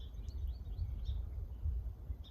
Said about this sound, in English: I'm hearing American goldfinch and a couple song sparrows.